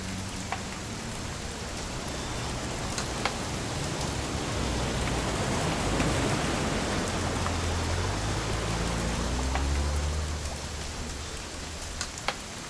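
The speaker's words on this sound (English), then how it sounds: "It's gonna rain the whole weekend," Steady rain in the video game What Remains of Edith Finch, a dense continuous hiss of falling drops that swells slightly midway, heard alone with no voices.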